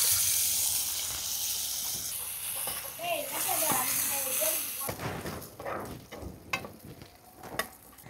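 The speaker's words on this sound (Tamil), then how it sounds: "இப்போ பாதாம் முந்திரி இதை நல்லா எண்ணெயில் வறுக்கிறோம்," Almonds and cashews fry in hot oil for Arabian chicken mandi, a loud close hiss and sizzle that fades into scattered stirring clinks, with someone talking over the sizzle partway through.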